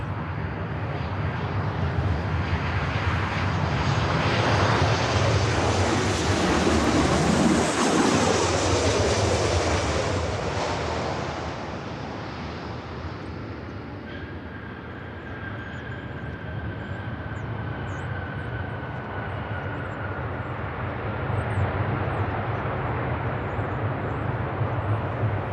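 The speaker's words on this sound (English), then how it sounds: "United 737 in the Star Alliance livery. Flight coming in from SFO" United Boeing 737-800 in Star Alliance livery arriving at Los Angeles LAX from SFO, a loud sustained jet roar that swells to a peak as it passes close by, then settles into a steady whine with a fading tone.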